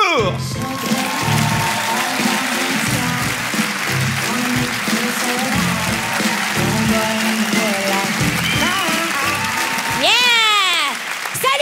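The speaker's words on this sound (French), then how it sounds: "Je vous demande de faire un tonnerre d'applaudissements à Rosalie Vaillancourt." A comedy gala crowd gives loud, sustained applause for comedian Rosalie Vaillancourt, with whoops and cheers mixed in and music playing underneath, and a voice rising over the clapping near the end.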